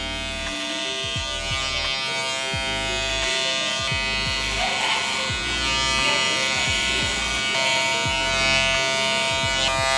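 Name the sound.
electric hair clipper cutting curly hair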